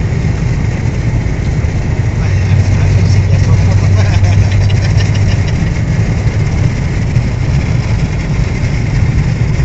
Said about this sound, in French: Et là ils mettent une petite accélération.